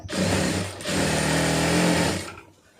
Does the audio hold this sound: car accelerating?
no